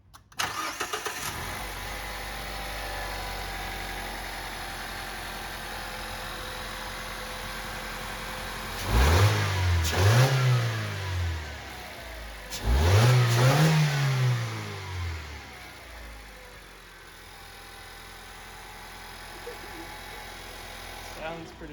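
A 2017 Toyota Yaris iA idles steadily, then its engine is revved twice in two strong, rising-and-falling bursts before settling back to a rough, even idle, heard up close.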